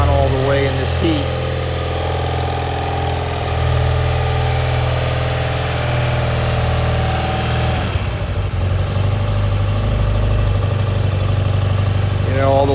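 An engine idles with the choke pulled on in hot weather, giving a loud, steady, rumbling drone that shifts in pitch partway through, and a voice speaks over it.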